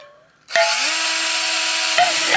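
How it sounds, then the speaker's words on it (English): A small drill bit boring holes into the wood of a 1947 Martin 00-17 guitar: a loud, close, high-pitched drill whine starts abruptly and runs steadily, with a brief pitch dip near the end. "We'll drill a few holes in here like this."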